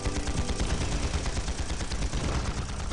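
Sustained gunner fire in a competitive tactical shooter match, a dense, continuous rattle of rapid shots filling the whole stretch at steady loudness with no talk over it.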